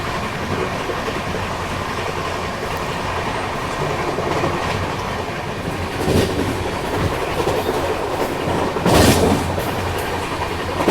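Ahmedabad–Gorakhpur Express running at about 110 km/h past Maksi Junction, a loud steady rumble of wheels on rail with rhythmic clatter and brief louder bursts from track joints, heard from on board without any talking.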